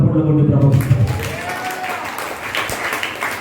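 A church congregation claps during a Sunday sermon, a dense burst of hand claps that rises after a voice and carries on steadily to the end.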